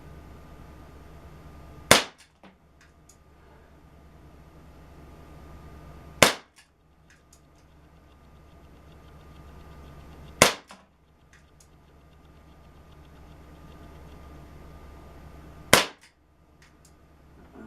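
Four sharp airgun pistol shots, such as a PPKS Vigilante, Dan Wesson 6-inch or Crosman C41, fired at a target 15 feet away, spaced a few seconds apart and each crack standing out loudly over a quiet background.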